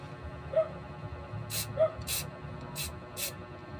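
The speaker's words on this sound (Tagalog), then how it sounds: "Ang pag-spray nito mga ka-fishing ay sinasabi ko sa inyo, huwag nyong bibiglain." Short bursts of aerosol spray paint hiss onto a homemade fishing casting lure, four brief close spritzes spaced apart, with faint low murmuring in the background.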